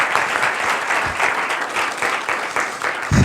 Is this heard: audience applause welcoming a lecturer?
yes